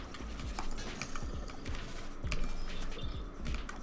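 Running footsteps of a player character in the dodgeball video game Knockout City, a quick series of light thuds over steady game background noise.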